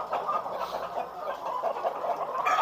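KUB-2 hens in a flock of around 150 breeding birds give soft, overlapping clucks and murmurs, a steady close chatter with no one talking.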